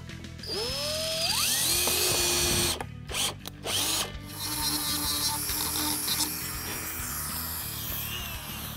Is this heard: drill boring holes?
yes